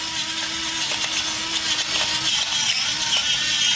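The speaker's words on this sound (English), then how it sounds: "Uncle Chris rocking the electric pepper grinder" An electric pepper grinder grinds black pepper, a close, steady high-pitched motor whir with gritty crunching texture, running continuously and loudly for a few seconds.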